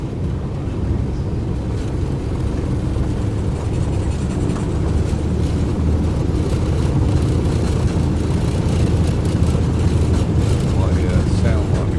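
Steady aircraft engine drone from a light plane in Microsoft Flight Simulator 2020 on a UK VFR tour, a constant broadband hum filling the background with no talk.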